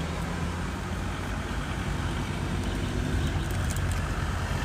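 A car's engine and road noise heard steadily from inside while driving, a dense continuous rumble with a low hum and broadband roar, close and even throughout, with no talking.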